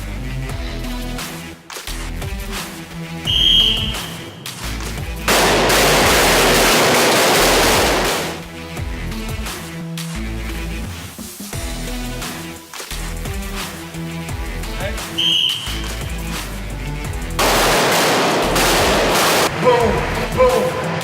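Handgun shots ring out at an outdoor qualification course, loud bursts in quick rapid strings with brief pauses between volleys, while people talk in between.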